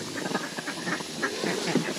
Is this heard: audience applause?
no